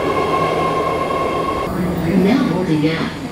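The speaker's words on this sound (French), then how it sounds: "je crois que c'est juste un train" An underground train at a San Francisco station rumbles loudly and steadily, with squealing wheel tones rising near the end, heard close by amid station noise.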